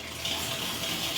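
Water running from a tap into a tank of about 60 litres, a steady close gushing hiss with no voices.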